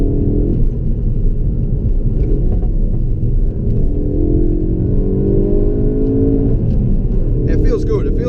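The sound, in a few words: Ford Focus RS engine accelerating while driving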